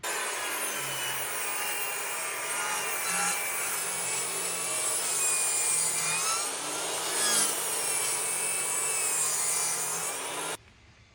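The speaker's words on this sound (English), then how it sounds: "Table saw's set up. Let's rip our apron," Table saw ripping a long wood strip for a dining table apron, a steady loud whine with the blade cutting continuously for about ten seconds before the cut ends and the sound drops away abruptly.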